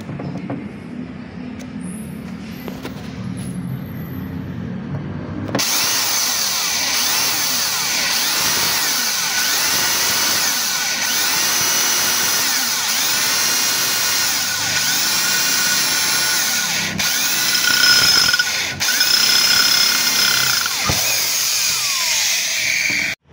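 A power drill whines steadily and loudly as it bores a new hole in a rear brake part for the lock, after a short quieter stretch at the start.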